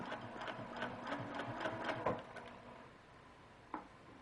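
A sewing machine stitches along the seam line of a quilt block, its steady mechanical run lasting a couple of seconds before it stops, followed by a single sharp click near the end.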